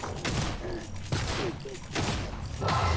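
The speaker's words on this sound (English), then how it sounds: "let's get the shotgun out" Shotgun blasts fired in the game Prey, three or four heavy booming shots spaced roughly evenly over a few seconds, loud and close with crunching impacts in between.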